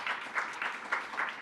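Brief, faint scattered clapping from a small meeting audience greets an Icelandic horse rider named for five-gait events at the 2014 Nordic championships, a quick rhythmic patter lasting only a moment.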